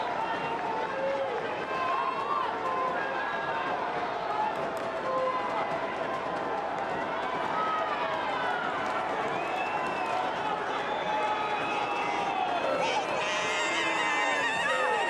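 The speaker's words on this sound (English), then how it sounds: "the crowd rises once again at" Soccer crowd at Toyota Field rising and cheering steadily during a corner kick in a San Antonio FC vs OKC Energy FC playoff match, a dense continuous roar of many voices with commentary over it.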